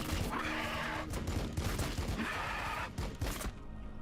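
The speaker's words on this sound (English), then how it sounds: "let's use the Assault Cannon on the Gen Stealers in front of Sister Verity" An assault cannon on a Land Speeder Tornado fires in Warhammer 40,000: Battlesector as dense, rapid bursts of crackling shots, with a short pause before a second volley, all loud and close over game noise.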